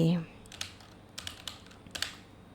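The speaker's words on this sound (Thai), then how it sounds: "พิมพ์เท่ากับ workday" Fingers type on a computer keyboard at a spreadsheet, tapping in short clusters of keystrokes over a quiet room, with a brief voice at the very start.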